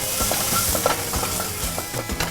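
Onions, ginger, garlic, tomatoes and green chili sautéing together in a pan, a close, dense sizzle with soft irregular stirring scrapes throughout.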